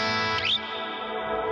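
A sustained electric guitar chord with a brief pitch bend, ringing out with a light, subtle reverb tail from a dialed-back RV5-style reverb setting.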